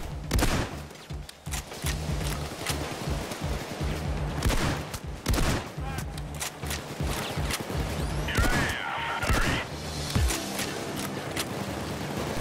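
Sniper gunfire and heavy fusillades rattle through a Payday 2 heist, with sharp shots repeating in irregular bursts, loud and close, over constant background game noise.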